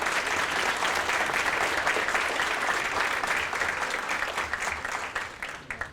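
Audience at a chamber of commerce dinner in a banquet hall applauding steadily for several seconds, a dense wash of clapping that holds level and then starts to thin near the end.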